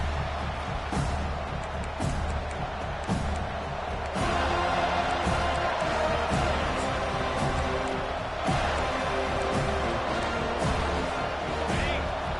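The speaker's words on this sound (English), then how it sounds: "It's early, but this crowd is fired up. Listen to this noise here." Football stadium crowd roaring early in a Seminoles game, a broad, steady wall of cheering and noise throughout, with occasional sharper bursts and faint talk beneath.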